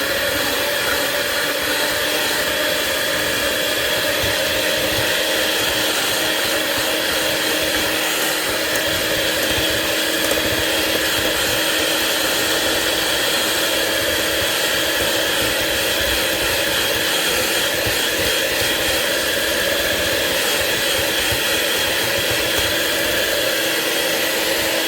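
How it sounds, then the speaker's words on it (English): An electric hand mixer whirs continuously and loudly through toffee-bit chocolate cookie dough, a steady motor drone with no pauses and no talking over it. "So I got my mixer. We're gonna mix this up a little bit."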